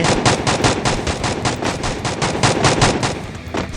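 Rapid bursts of automatic gunfire from a video game, a steady rhythmic stream of sharp shots filling the whole stretch at close range.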